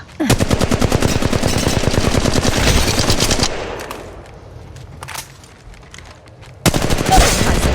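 Rapid automatic gunfire in the mobile battle royale game Apex Legends Mobile, a loud, dense stream of shots for several seconds, then a lull with a single distant burst before another close volley erupts.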